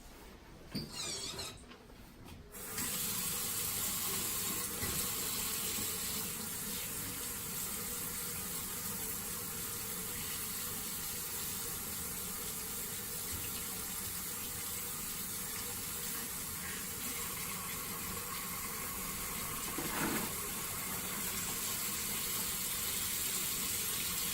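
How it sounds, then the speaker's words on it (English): A sink tap runs steadily and loudly as hands are washed in a clinical setting, a continuous close rush of water after a brief start, with slight splashing variations. "Just going to wash my hands before I get started."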